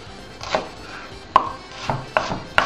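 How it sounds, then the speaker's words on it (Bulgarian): A knife slices red onion into small half-moons on a board, giving a handful of crisp, irregular knocks close up with quiet pauses between strokes. "ще нарежа лука, червения лук. Ето така на полумесеци, на по-малки полумесеци."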